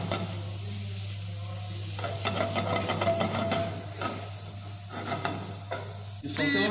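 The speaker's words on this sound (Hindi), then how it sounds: "अब हम इसे स्लो फ्लेम पे सौते करते हैं" Onion and mixed herbs sauté on a slow flame, giving a continuous close sizzle with stirring scrapes and clatter in the pan, plus a steady low hum underneath.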